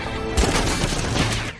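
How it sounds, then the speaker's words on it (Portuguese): Gunfire in an action film scene, with dense, crackling bursts of shots layered over a rumbling, chaotic mix that stays loud throughout. "eles precisam escapar dos tiros que caem sobre eles"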